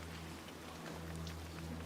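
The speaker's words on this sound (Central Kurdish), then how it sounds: "باران ئەبارێ" Steady rain falls in an even, continuous hiss with no pauses, fairly faint and without any voices or other distinct sounds.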